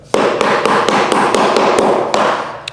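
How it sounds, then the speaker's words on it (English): Part of a tall indoor plant stand shelf hammered into place, a quick series of about ten sharp, close taps at a steady, brisk rhythm. "just make sure that it is hammered well into place"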